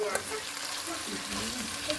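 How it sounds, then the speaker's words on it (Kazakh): Mutton, onion and carrot frying in oil in a pot produce a quiet, continuous sizzle with faint stirring scrapes, heard up close and without talk. "Жақсылап морковь өлгенше қуырамыз."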